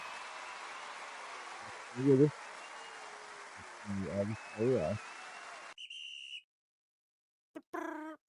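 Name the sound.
person imitating a whistle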